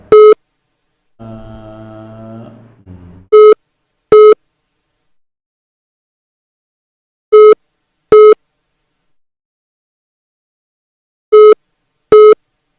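A telephone busy tone beeps in evenly spaced pairs after a short burst of garbled line noise, loud and close, with long silences between.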